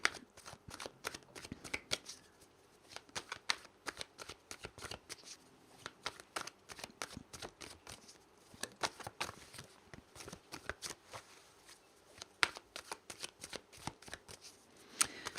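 Tarot cards shuffled steadily for the whole stretch, a dense, fast run of crisp riffling clicks and slaps close up, with only brief lulls between bursts and no talking.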